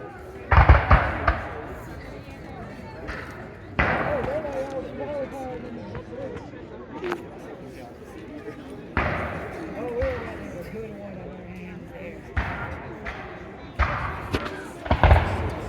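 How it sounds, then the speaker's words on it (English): Musket volleys from Virginia militiamen crack out at a battle reenactment, loud sharp bursts recurring irregularly with distant pops between them, while people talk over the scene. "Those look like Virginia militiamen firing on the hill as the British approached them."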